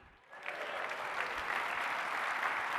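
Sustained applause from a keynote audience at the Acumatica Summit 2021, swelling quickly after a brief quiet start into a steady, dense wash of clapping from a large crowd.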